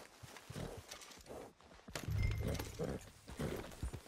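Horse hooves clip-clopping at a walking pace in the video game Red Dead Redemption 2, fairly faint, with a brief whinny-like sound partway through.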